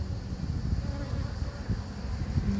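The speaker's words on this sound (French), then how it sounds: "il y a une naissance d'une toute jeune abeille qui est en train de sortir" Honeybees hum in a steady low buzz at an open beehive, close and continuous, a dense drone of many insects with no voices.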